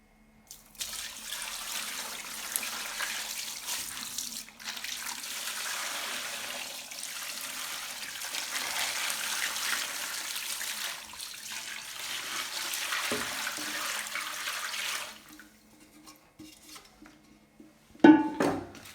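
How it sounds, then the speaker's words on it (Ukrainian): Cooled brine pours in a steady, continuous splashing stream over meat being prepared for home smoking, close and moderately loud for about fourteen seconds, then stops, followed by a few small knocks. "Ось дивіться, це розсол. Він уже повністю охолонув. Тепер я буду заливати."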